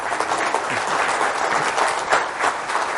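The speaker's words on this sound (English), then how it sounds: "Give him a round of applause for that." Steady crowd applause filling a room at a real estate seminar, a dense wash of many hands clapping at a constant, fairly loud level throughout.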